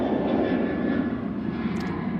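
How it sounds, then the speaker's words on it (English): Emirates Airbus A380 airliner on final approach at Manchester Airport, a steady broadband engine roar heard from a distance, moderately loud and unbroken, with no talking. "I've got that Emirates A380 on finals."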